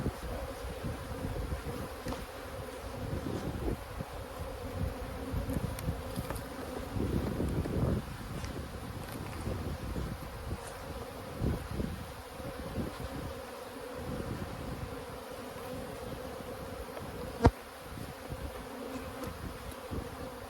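Bees in an abandoned hive being inspected, a steady close buzzing drone throughout with occasional rustles and one sharp knock near the end.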